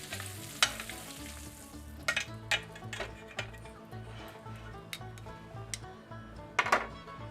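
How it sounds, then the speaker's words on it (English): Shrimp frying in oil in a pan for Cajun pasta with andouille sausage, a steady close sizzle broken by sharp clatters and scrapes of stirring, with no talk. "let's go ahead and take these off and cook up some of the shrimp."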